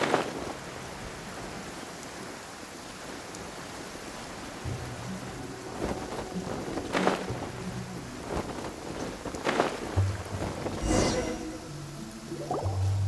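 Steady rainfall hisses in the Genshin Impact video game, broken by several rumbling thunderclaps of varying strength, some sharp and near, over about thirteen seconds.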